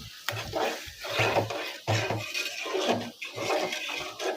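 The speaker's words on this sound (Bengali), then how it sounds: "সরষের তেল দিয়ে মুরগির মাংস রান্না করতেছে, দেশি মুরগি।" Free-range chicken cooking in mustard oil in a pan, with a continuous sizzle and repeated scraping strokes of a spatula against the metal, close and unbroken by speech.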